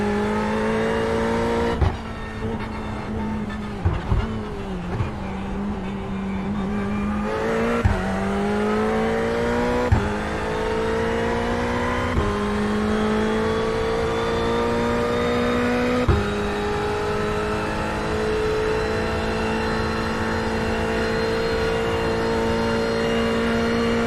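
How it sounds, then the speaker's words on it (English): A race car engine drones steadily at high revs on the Bathurst circuit in iRacing, the pitch sweeping down under braking and climbing through gear changes with repeated shifts, loud and close with no voices. "Yeah, I can hear the car too."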